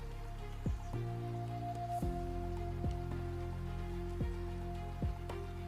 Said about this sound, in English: Real-life unsolved mysteries paired with the soothing rhythm of rain.